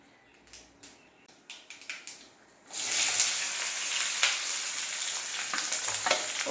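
Loud, steady sizzling of mustard seeds and spices hitting hot oil in a wok, preceded by a few soft clinks and stirring sounds, close up with no talking.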